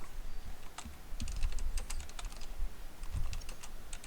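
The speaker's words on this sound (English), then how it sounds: "I'm having to type this in" Rapid keystrokes on a computer keyboard during a tabletop role-playing session, sharp clicks in uneven bursts with short pauses, fairly close, over low room rumble and bumps.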